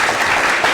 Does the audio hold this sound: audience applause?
yes